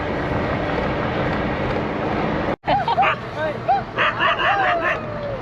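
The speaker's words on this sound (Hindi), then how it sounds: "भाई कुत्ते पीछे पड़ गए।" Several dogs bark and yip in a burst of overlapping calls as they chase cyclists riding from Delhi toward Nepal, following a stretch of steady wind or road rumble.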